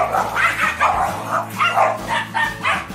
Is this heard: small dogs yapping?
yes